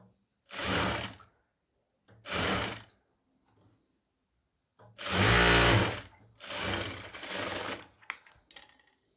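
Sewing machine stitching a nighty, four separate bursts of rapid mechanical whirring, each lasting about a second, with quiet pauses between them as the fabric is guided through.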